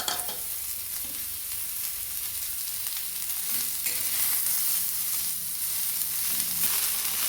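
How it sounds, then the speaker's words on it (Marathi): Four cut onions frying in a pan give a steady, moderately loud hiss of sizzling oil with faint stirring underneath, no voices. "आपला कांदा भाजून होत आहे"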